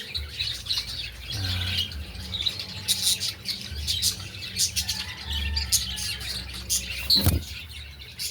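Breeder hen and rooster in a pen, with scattered clucks, squawks and chirps, mid-distance and moderately loud over a low background rumble, plus an occasional sharper call.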